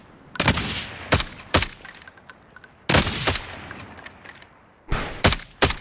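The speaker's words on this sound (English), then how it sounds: "I'm shooting like I'm gonna hit him." Video game gunfire comes in several sharp, loud bursts of rapid shots separated by short pauses, close and dominant, with no speech over it.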